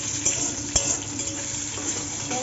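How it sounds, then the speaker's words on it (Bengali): Lentils (dal) being tempered with spices in hot oil: a steady soft sizzle and frying hiss with a couple of sharp utensil taps and stirring scrapes close by, no talk. "আমি এখন ডাল ফোড়ন দিচ্ছি"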